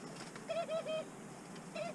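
Soft, low coos from white pigeons repeat in short phrases, a few murmured calls close by over a quiet outdoor background.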